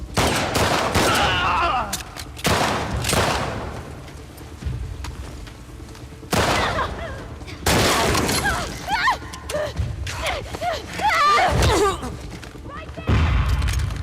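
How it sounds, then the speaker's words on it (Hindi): Gunfire during a fight in The Last of Us Part 2 gameplay: repeated loud bursts of shots, booms and impacts separated by brief lulls, with voices talking over the action. "जैसी भी गोलियां चला रहा है, बहुत बढ़िया।"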